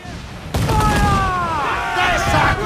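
Ship cannons firing in Assassin's Creed Black Flag, a sudden loud blast followed by rumbling booms and whistling shots, close and sustained, with a voice shouting over it.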